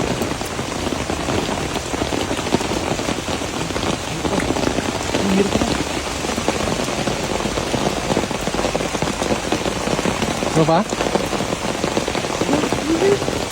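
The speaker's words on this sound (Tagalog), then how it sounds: "Umuulan na." Rain falls on a creek after a heavy downpour, a dense, steady patter and hiss close at hand, while a person speaks briefly over it.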